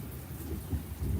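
Heavy rain pours down steadily in a thunderstorm with a low rumbling roar, close and continuous, with no talking.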